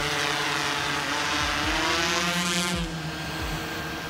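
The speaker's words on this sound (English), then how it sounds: "we're gonna go ahead and send the drone back up in the air and do its flight mission" A mapping drone taking off for its flight mission, a steady loud whirring propeller drone close by, its pitch holding with slight shifts as it climbs, alone without talk.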